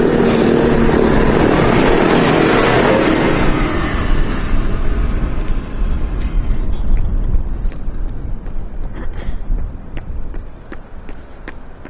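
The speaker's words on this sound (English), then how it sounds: "Just emerging from the distance, we got the United Airlines Dreamliner" A United Airlines Boeing 787 Dreamliner approaches at Amsterdam Schiphol, a broad, loud jet roar that swells in the first seconds and then slowly fades into a lower rumble with light clicks in the background.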